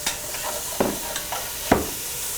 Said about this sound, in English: So I have one chopped onion, that kind of a small chop. I'll toss in there.